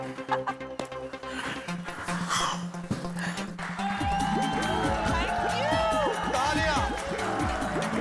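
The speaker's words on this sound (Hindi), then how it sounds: "तालियां।" Party crowd cheering, whooping and applauding after a best-couple award is announced on stage, a dense wash of voices and claps with music-like tones joining midway, steady and fairly loud throughout.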